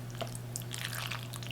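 Cheesy Cheeseburger Mac Hamburger Helper being stirred, with soft wet squishes and sticky clicks close up over a low steady hum.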